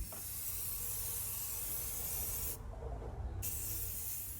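Spray paint hissing steadily from an aerosol can onto decorative vase-style candle holders, a continuous close airy spray with a short louder burst near the end.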